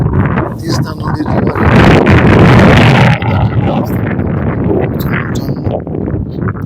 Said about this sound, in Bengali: শীতল হাওয়া হয়েছে